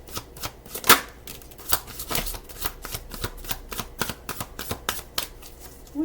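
Tarot cards shuffled by hand during a card reading, a steady run of crisp riffling flutters and soft slaps close up, with no talking.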